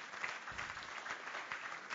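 An audience applauds at an award show, steady sustained clapping from a large crowd filling the room at moderate volume without pause.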